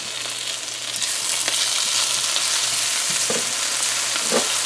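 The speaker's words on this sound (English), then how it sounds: "So we're gonna fry this up for another 45 seconds or so." Tomatoes and eddo fry in a hot pan with a steady, loud sizzle close up, plus occasional stirring scrapes and no talking.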